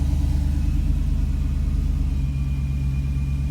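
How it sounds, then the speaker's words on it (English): A high-mileage 2006 Jeep SRT8 V8 idles steadily with a cylinder 5 misfire, a low continuous rumble with a faint rhythmic stumble and a steady whine above it, heard up close with no talk. "as the vehicle goes into its lower idle, you're going to see that the cylinder 5 misfire count climbs"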